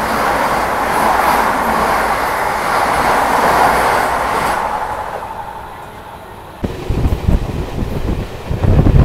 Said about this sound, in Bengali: এই পাশ থেকে ঢুকছে ধানবাদ থেকে হাওড়া কলফিল্ড এক্সপ্রেস।